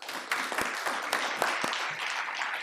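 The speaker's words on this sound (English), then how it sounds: "Thank you for clapping with me." Conference audience applauding in a hall, steady scattered clapping from many hands throughout, moderately close, with a few sharper individual claps standing out and no talking.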